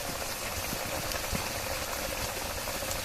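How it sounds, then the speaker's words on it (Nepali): Mushroom curry simmering in a pot on a Nepali village home stove, a steady, even bubbling hiss with faint pops that stays constant and close, with no talking. "उम्लिदैछ।"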